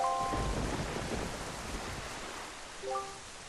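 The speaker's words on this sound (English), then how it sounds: "this place suffers under dark clouds and rain" Rain and rolling thunder from the video game The Wind Waker, on a cursed island under dark clouds: steady rainfall hiss with a low thunder rumble, plus brief soft musical tones near the start and end.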